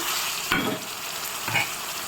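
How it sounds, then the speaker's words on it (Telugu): Andhra-style chicken curry with salt and turmeric sizzling in a pan, two quick scraping stirs of a spoon over a steady frying hiss, close by. "అందుకని ఒకసారి తిప్పుదాం"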